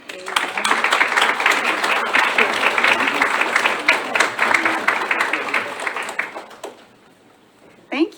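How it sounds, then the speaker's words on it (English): Warm audience applause fills a room at a health department suicide awareness event, steady dense clapping for about six seconds before fading to quiet, then a brief burst near the end. "Thank you for that warm applause."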